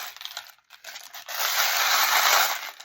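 Small tarot charms are shaken and mixed together, giving a close, bright metallic clinking and rattling that builds to a sustained jangle after a brief pause.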